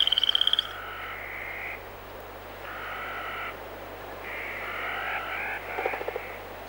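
Frogs croak in bursts of rattling calls over steady background hiss, with a few sharp clicks at the start and a busier stretch of overlapping croaks toward the end.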